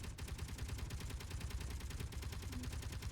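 Rapid automatic gunfire in the video game Space Engineers: a fast, evenly spaced stream of shots that runs without a break, fairly quiet and distant, with no talk over it.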